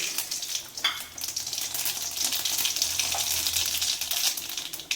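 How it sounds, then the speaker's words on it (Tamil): Mustard seeds sizzle and crackle in a small amount of hot oil for tempering, a steady bright hiss with scattered pops, close and fairly loud, with no talking. "இப்போ இந்த எண்ணெயில் கொஞ்சம் கம்மி பண்ணிவிட்டு இதிலே நம்ம தாளிச்சிடலாம் கடுகு போட்டுக்கணும்"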